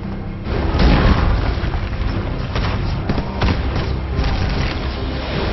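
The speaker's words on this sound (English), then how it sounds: "Bring in the heavy artillery." Heavy artillery explosions from the Mobile Strike game, a loud sustained run of booming blasts and rumbling impacts, one after another with no gap.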